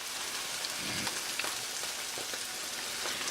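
Cashew nut paste going into frying masala for a dhaba-style paneer tikka masala, giving a steady, fairly faint sizzle and crackle throughout with a few soft stirring taps, no talking.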